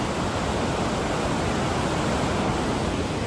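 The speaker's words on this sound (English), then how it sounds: "Hear the power of that water, people. It's very powerful." A powerful waterfall's rushing water roars steadily and loudly from close by, a dense unbroken wash of sound with no voices over it.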